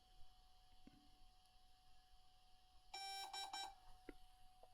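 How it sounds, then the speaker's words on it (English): A DJI drone beeps as it pairs with a DJI RC 2 controller, a short burst of bright electronic tones in quick succession over a quiet room with a faint steady hum and a few soft clicks. "Aircraft beeped."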